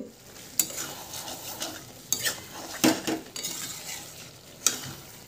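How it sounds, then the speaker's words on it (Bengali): Chicken being sautéed dry in a pan without water for a spicy lemon chicken dish, with repeated spatula scrapes and clinks against the pan over a continuous close sizzle. "খুব ভালো করে এখানে চিকেনটাকে কষাতে হবে"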